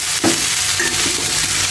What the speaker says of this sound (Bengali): চিকেন গুলো ভেজে নিচ্ছি, সাথে সবজি